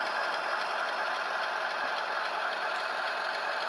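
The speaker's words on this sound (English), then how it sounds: "the Tsunami 2 has very nice diesel sounds to it" A model ES44AC diesel locomotive with a Tsunami 2 sound decoder plays its diesel engine sound, a steady, continuous droning rumble with no breaks or talking.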